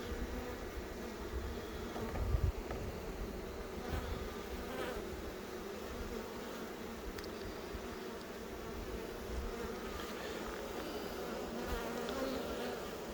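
A steady, dense drone of many honey bees buzzing close by around a hive, continuous throughout with a brief louder thump partway in.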